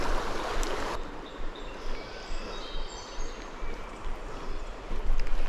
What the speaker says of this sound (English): Let's try out this real fast moving water here.